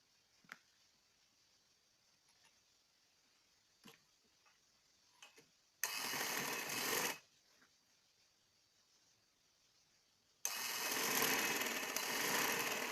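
A sewing machine stitching the side seam of a peplum top runs in two loud, close bursts of rapid whirring, one short and one longer, separated by quiet stretches with faint clicks and handling ticks.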